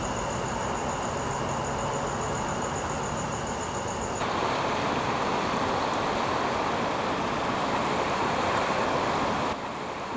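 A river flows nearby amid landscape in Swat, a dense, steady rushing wash of water that fills the whole stretch, loud and even with no voices.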